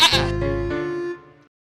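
A single goat bleats loudly and close up, one wavering call lasting about a second that then fades out.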